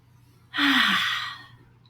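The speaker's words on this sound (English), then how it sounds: "So let's just take a deep breath in." One deep, audible breath is drawn in close to the mic, a breathy rush lasting about a second that fades into quiet, with no talking.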